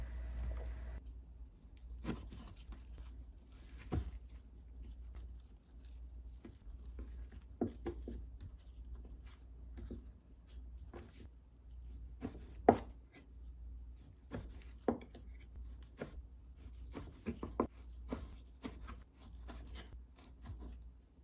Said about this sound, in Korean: 이렇게 반으로 자른 후에 약 3cm 정도의 두께로 잘라주고 찌개에 끓일 때 맞게끔 잘라주시면 됩니다